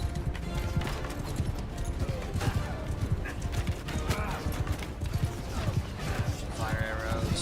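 In the Mount and Blade Bannerlord video game, a horse gallops in steady rapid clip-clop hoofbeats, loud and continuous, with occasional neighs and clanking mechanisms and someone talking over the action.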